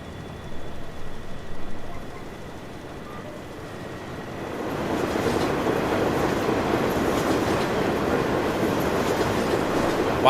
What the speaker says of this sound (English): Wow, I wonder how he made that train so loud.